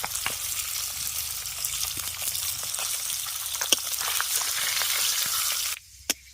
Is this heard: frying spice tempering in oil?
yes